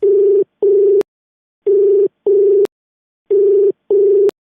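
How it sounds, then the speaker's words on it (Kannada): A telephone ringback tone repeating in three evenly spaced double bursts, each pair a steady buzzing tone with a short gap in between, loud and clear against silence. "ರಿಂಗ್ ಆಗ್ತದೆ."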